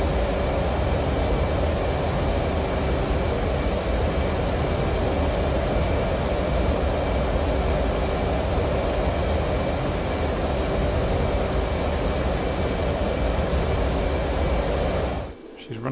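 Steady, loud jet roar from a fighter aircraft on its takeoff run in the DCS World flight simulator, a broad continuous rush with faint whine tones that holds level throughout and then cuts out abruptly at the very end.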